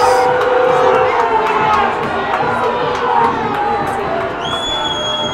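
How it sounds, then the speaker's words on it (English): A varsity high school football crowd in Pueblo roars throughout, with fans cheering, shouting and booing the referees in a dense, loud, continuous wash of voices, and a few whistle-like tones rising near the end. "You see fans jumping up and down, cheering, waving their hands, clapping"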